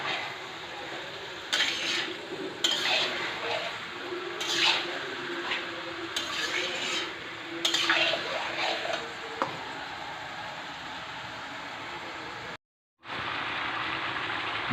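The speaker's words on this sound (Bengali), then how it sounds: "মাংস কিন্তু এখনও কষানো চলছে" Marinated chicken with fried onion and garlic being stir-fried for Badshahi chicken in a pan, a steady sizzle broken by intermittent scraping and clinking strokes, close and fairly loud, without talk.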